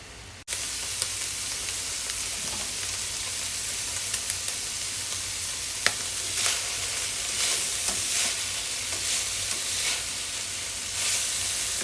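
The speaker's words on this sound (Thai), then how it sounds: "รีบคั่วแหนมเจ้า" Fermented pork naem stir-fried in a pan, a steady, bright sizzle and hiss running throughout with occasional scraping stirs, close and alone with no voices.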